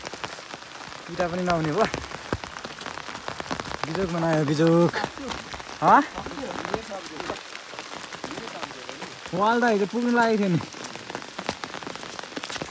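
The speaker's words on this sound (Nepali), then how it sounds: "पानी पर्दैछ" Steady rain patters down over a village house and brick-making site, a dense hiss of drops on surfaces running the whole time beneath a person's nearby talk.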